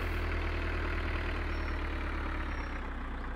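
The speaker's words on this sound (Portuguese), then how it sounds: "o barulho parece caminhão. Parece motor de caminhão o carro." A Peugeot 208 engine in the video game My Summer Car idles with a deep, steady diesel-truck-like rumble, constant and loud throughout, with no voices.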